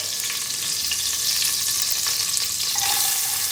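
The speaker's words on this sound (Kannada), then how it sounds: "ಈರುಳ್ಳಿನ ಚೆನ್ನಾಗಿ ಫ್ರೈ ಮಾಡ್ಕೊಳ್ಳಿ." Sliced onion sizzles steadily in hot oil in a pan with mustard seeds and curry leaves, a dense, even frying hiss that holds close and loud for the whole stretch with no voices.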